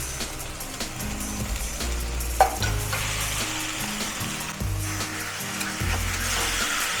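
Marinated chicken frying in a pan with onion, tomato, ginger and garlic, a steady loud sizzle with occasional stirring scrapes throughout.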